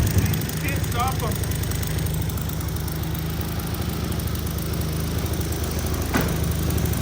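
A Tao Tao Chinese ATV engine idles nearby after a head repair, a constant loud mechanical drone with an even, buzzing pulse that holds steady throughout.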